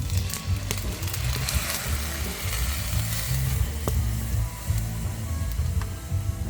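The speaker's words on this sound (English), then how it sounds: "I'll just go ahead and start put some milk in there" Milk poured into a hot pan holding cinnamon, star anise and clove for sweet potato noodle vermicelli, giving a steady broadband sizzle and bubbling hiss that runs throughout, with a low rumbling undertone and no talking.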